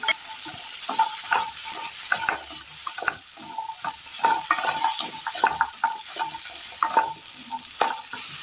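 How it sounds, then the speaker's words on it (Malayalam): Taro pieces are stirred and heated in a pan for a Kerala recipe, giving repeated scraping and clinking strokes over a soft, steady sizzle, with no voices. "ഇതേ പാത്രത്തിലേക്ക് ചേമ്പ് ഇട്ട് കൊടുക്കാം. ജസ്റ്റ് ഒന്ന് ചൂടാക്കാം."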